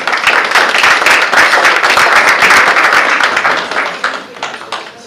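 Steady applause at a meeting for a social officer, many hands clapping loudly and continuously before tapering off near the end.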